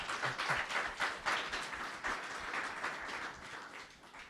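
A conference audience at a blockchain summit claps together, a faint, distant patter of many hands swelling and then tapering off, with no voices over it.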